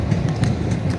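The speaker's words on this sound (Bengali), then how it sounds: "ট্রেনের আওয়াজ শুনে স্টেশনে বলে দিয়েছে" A steady low rumble with faint rhythmic clatter, like a train rolling past close by, continuous for the whole second with no voices.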